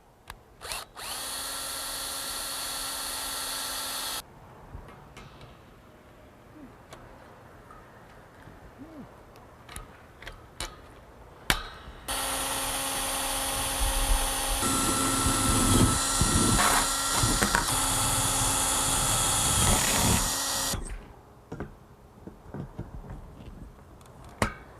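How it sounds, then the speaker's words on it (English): Power drill boring through a Sunglo Model 1000C greenhouse ridge header for long rivets, two sustained whining drill runs separated by quieter handling clicks and taps, plus sharp rivet snaps near the end. "And then we'll drill and rivet using long rivets at slight angle to get underneath the ridge header."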